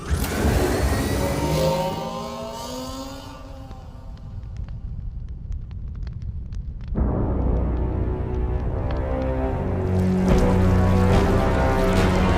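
Aerotech 105 Lancer speeder bikes racing in a Star Wars battle scene between clone troopers and IG battle droids, heard as a sustained engine-like roar and whoosh that dips midway and then swells again, loud and alone.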